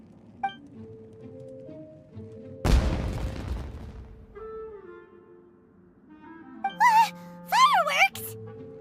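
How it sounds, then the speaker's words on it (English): A single loud fireworks blast in the game Genshin Impact bursts out suddenly and fades over about a second, with sparse game tones before and after and character voices later on. "Was that an explosion? It sounded like fireworks."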